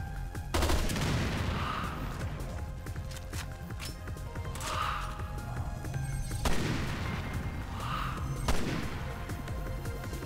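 Automatic gunfire from the Resident Evil Revelations 2 video game, with dense rapid bursts that come in several sharp, loud onsets over a continuous, clattering barrage with no speech.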